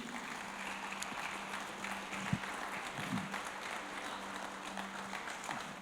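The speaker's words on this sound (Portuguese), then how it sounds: "Uma salva de palmas para Jesus." Quiet, steady applause from a church congregation at a Sunday service, a soft continuous patter of clapping with a few faint voices beneath.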